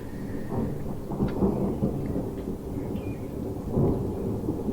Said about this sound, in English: And the thunder gets louder.